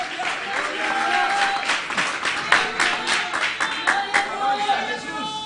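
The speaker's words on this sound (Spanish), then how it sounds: "Dele un aplauso al capitán" A congregation at an annual church retreat in Bonaire applauds, a dense patter of clapping mixed with voices calling out and cheering over it.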